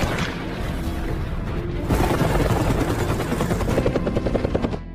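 A loud, steady helicopter rotor roar runs throughout, with rhythmic blade chopping becoming more pronounced toward the end, no voices.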